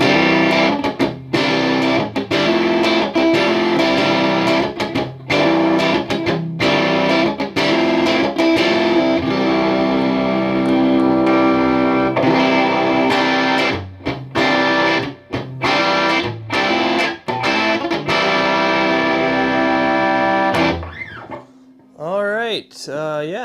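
Ibanez SA260FM electric guitar with a humbucker bridge pickup, played through distortion: sustained chords and riffs ring loud and up close, with brief gaps, and end in a short quieter passage.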